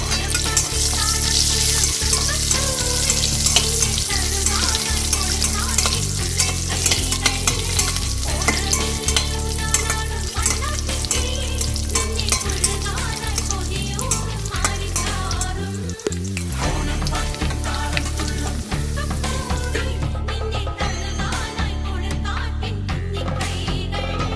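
Cashew nuts and raisins fry in hot oil for a mung dal payasam, giving a continuous close, loud sizzle broken by stirring scrapes, with a brief dip in the crackle near the end.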